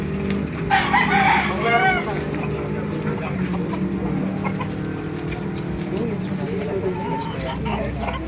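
Roosters and chickens fill a live fowl market in Bocaue, with a loud nearby crow early on and ongoing clucking over a busy crowd murmur, while people talk throughout.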